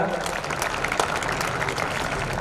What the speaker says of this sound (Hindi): तो एक बार भीमसेन जी के लिए जोरदार तालियां।